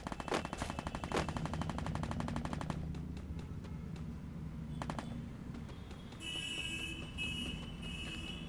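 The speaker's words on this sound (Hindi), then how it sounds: "बंदा हमें जो कि फायरिंग कर रहा है" Rapid automatic gunfire in the mobile shooter game Free Fire, loud dense bursts of shots at the start, then scattered shots and electronic beeping tones later.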